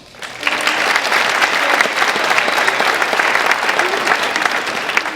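A school assembly audience at a Martin Luther King Jr. event bursts into applause, rising quickly to a sustained, dense wall of clapping that holds steady to the end.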